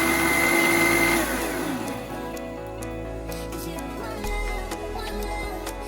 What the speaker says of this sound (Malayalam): അതിന് മിക്സി ടോപ്പിട്ട് അടച്ച് നമ്മൾക്കത് ഗ്രൈൻഡ് ചെയ്തെടുക്കാം